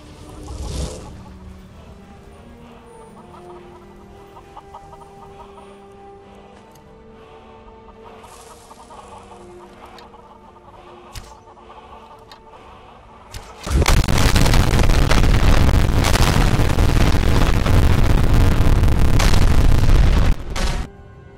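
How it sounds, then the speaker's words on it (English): A modded Skyrim Special Edition scene where a crowd of chickens clucks and squawks for about thirteen seconds, then a huge burst of explosions erupts into a loud, sustained roar of booms before cutting off. "just wait until you summon 200 chickens and then shoot one."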